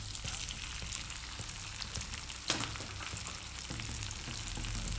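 A cracked egg sizzles in a pan over lowered gas for egg fried rice, a steady close hiss with faint crackles and one brief clatter partway through, no talk.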